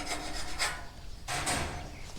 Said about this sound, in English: we'll take the file and get the burrs off the back so that everything fits nice and smooth.